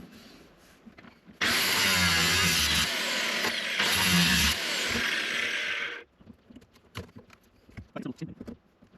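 An angle grinder's cutting disc slices through the steel floor of a 1993 Daihatsu Fourtrak 2.8 TDX, a loud, steady high-pitched shriek lasting several seconds, then it cuts off, leaving scattered clanks and handling noises.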